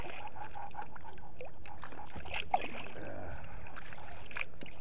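Oars dip and stroke through the water as a small boat is rowed while trolling for trout on a calm lake, soft watery splashes and creaks heard close by with no talking.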